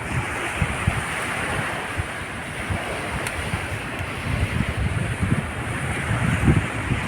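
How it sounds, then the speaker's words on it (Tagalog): Typhoon-driven sea waves crash at a fishport in Baler, Aurora, a loud, continuous roar of breaking surf blended with gusty wind buffeting the microphone, with no voices. "Nasampa sa fishport ng alon guys oh."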